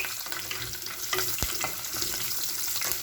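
Garlic and green chili sautéing in a hot pan, a continuous crackling sizzle broken by a few sharp clicks of a utensil against the pan, with no talking.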